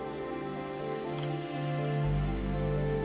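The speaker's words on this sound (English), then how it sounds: "it's raining right now" Rain falling in the video game Minecraft, a steady, continuous wash of rain sound mixed with sustained droning game music and no speech.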